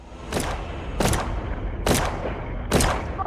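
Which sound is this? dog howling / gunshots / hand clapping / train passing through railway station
gunshots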